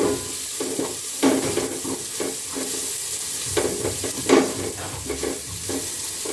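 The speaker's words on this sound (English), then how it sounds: "So we regulate the fire. So we continue stirring." Sardines (omena) frying in a pan as a spoon stirs them, giving a steady close sizzle broken by repeated scraping strokes every second or so, with no talking.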